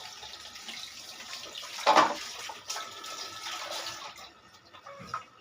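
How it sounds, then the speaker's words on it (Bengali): Tap water runs while hands are washed in a home kitchen after cooking, a soft steady splash with one brief louder gush near the middle. "হাতটা ধুয়ে নিই।"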